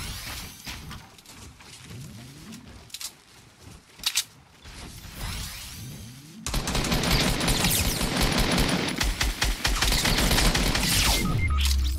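Fortnite gunfire: scattered shots and mechanical clicks at first, then a sudden loud, dense burst of rapid fire that continues to the end.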